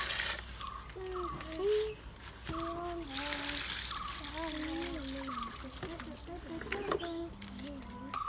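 Water runs and splashes as sprouted home-grown potatoes are washed, a steady trickle with louder splashy bursts that sits under continuous nearby talk.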